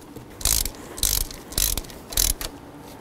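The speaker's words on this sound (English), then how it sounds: "Let's go ahead and put our bolt back in here." A bolt being ratcheted back into the coolant temperature sensor on a 1992-2000 Chevy Tahoe, four loud, evenly spaced bursts of ratchet clicking up close.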